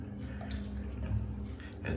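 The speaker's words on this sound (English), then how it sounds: "water has been dripping down for the past few days" Water dripping and trickling from a leaking mixer shower tap, a faint, steady patter of drops.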